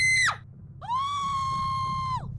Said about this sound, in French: Elle est surprise, donc elle crie.